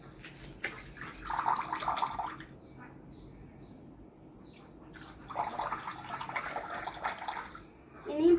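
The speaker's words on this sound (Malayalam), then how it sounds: "ആദ്യമേ ഞാൻ മണ്ണുള്ളതിനകത്തോട്ട് വെള്ളം ഒഴിക്കാൻ പോകുകയാണ്" Water poured into a glass holding soil, a soft trickling splash in two bursts with a quiet gap between, fairly close, with faint background noise.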